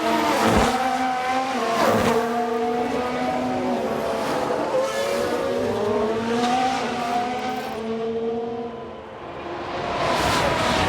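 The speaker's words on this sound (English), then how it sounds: "I think there's been a lockup." Race cars on track in the F1 Manager 2022 game during a tyre lockup, a loud continuous engine whine rising and falling in pitch with a squeal layered over it and no talk.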